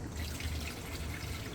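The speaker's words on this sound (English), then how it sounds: "we're just gonna open it up, pour the water in" Water is poured into a GreenStalk vertical planter, giving a steady, soft rushing trickle that continues without a break.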